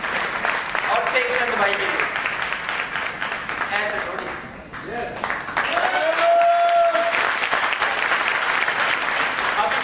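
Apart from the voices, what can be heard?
audience applause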